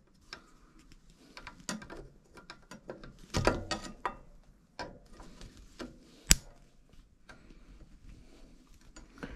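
Small clicks, snips and ratcheting mechanical ticks come from trimming near a brake hose or cable on a gravel bike, sparse and close, with one sharp loud snap partway through.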